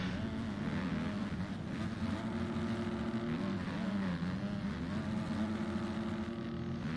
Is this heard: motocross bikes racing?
yes